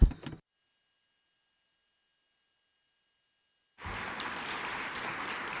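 Delegates at a plenary session of a UN biodiversity working group break into clapping. A brief burst of sound is followed by several seconds of near silence, and then steady applause starts and carries on to the end.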